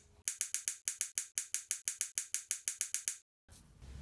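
A coiled spring being cut into pieces, a rapid run of about twenty sharp, evenly spaced ratcheting clicks, close and crisp, ending abruptly, followed by a short burst of rougher noise.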